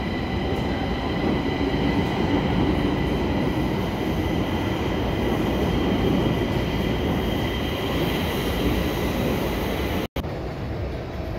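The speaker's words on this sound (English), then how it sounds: "here's the subway station, subway train, and that's how it works" A Stockholm subway train departs the station with a steady, loud, close rumble of wheels and motors running throughout, with no talk over it.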